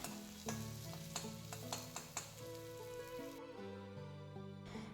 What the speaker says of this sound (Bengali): একটা গ্যাসের চুলায় আমি বেরেস্তাটাকে মানে বেরেস্তার পেঁয়াজটাকে ভেজে বেরেস্তাটাকে রেডি করে নিচ্ছি